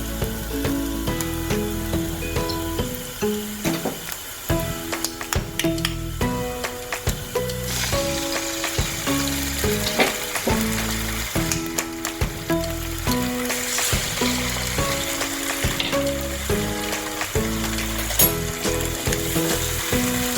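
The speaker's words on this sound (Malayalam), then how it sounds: "ഇനി നമ്മളിതിലേക്ക് 2 മുട്ട ഒഴിച്ച് ചേർത്ത് കൊടുക്കാൻ പോവാണ്" Eggs frying with onions in a pan, a steady sizzle running throughout with busy clicking and scraping stirring sounds layered on top, fairly loud and close, with no one speaking.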